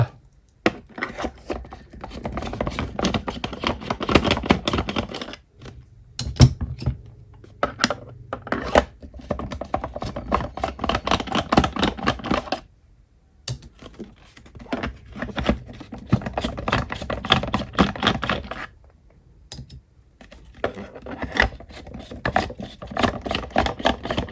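Four screws are unscrewed from a Spectra breast pump with a screwdriver, giving close, gritty, rasping turns. The runs come in repeated bursts broken by brief silent gaps, with no talking.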